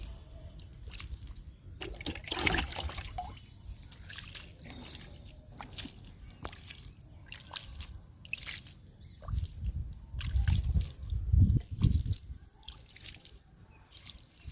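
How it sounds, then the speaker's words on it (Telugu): Water is sprinkled by hand over bitter gourd seeds in a soil-filled terrace tub: quiet, scattered pattering drips and small trickles, a few fuller splashes near the end, heard up close without speech. "విత్తనాలకి వాటర్ ఇచ్చేటప్పుడు చల్లుతూ ఇవ్వాలి."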